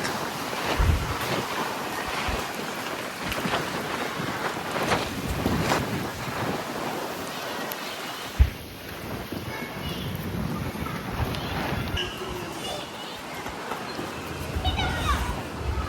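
Strong, gusty wind during an unseasonal storm in Talegaon roars steadily into the microphone, with a sharp knock partway through and people talking under the noise.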